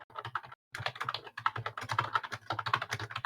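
Rapid, irregular typing on a computer keyboard, close and fairly loud, with a brief pause early on before the clicking resumes steadily.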